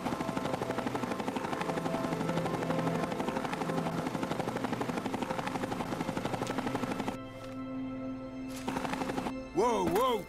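A rapid, rhythmic Vertibird propeller chops steadily in Fallout New Vegas, a dense thumping drone that carries on for most of the stretch before giving way to other game sounds and rising tones at the end.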